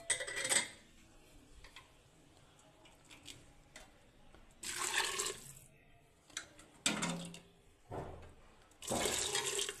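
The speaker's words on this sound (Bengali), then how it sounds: "এবার আমি পরিমাণ মতো পানি দিয়ে দেবো।" Water poured into a pot of fried rice for khichuri, heard as several separate gushing pours with quiet gaps between them, close by.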